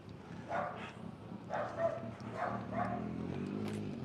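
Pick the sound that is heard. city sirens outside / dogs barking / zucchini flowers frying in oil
dogs barking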